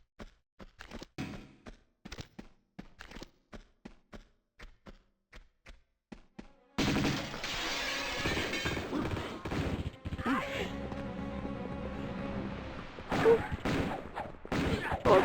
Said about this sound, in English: they can still shoot me when I'm hanging off the windowsill